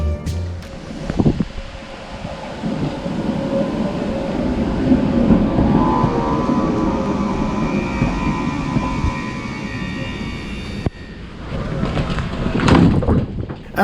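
A Tatra KT4D tram rolls into a stop in Plauen with a long rumbling, screeching approach, then a sharp clunk and the doors working near the end, loud and close.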